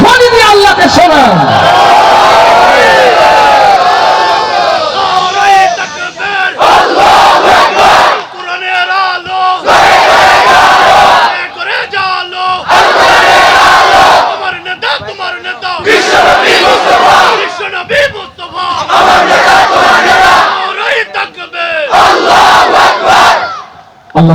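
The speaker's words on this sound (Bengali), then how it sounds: "দুই হাত তুলে তাকবীর ধ্বনি দিয়ে আল্লাহকে শোনান।" A large crowd at an Islamic religious gathering (waz mahfil) in Bishnupur shouts takbir in loud, repeated collective bursts, each swelling roar separated by brief pauses.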